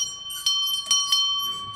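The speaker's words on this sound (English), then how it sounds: "And a beautiful bell used for last call." A bell rung for last call in a brewery pub decorated with beer signs and religious images, giving a few bright, ringing strikes in quick succession close by, each tone sustaining through the short burst.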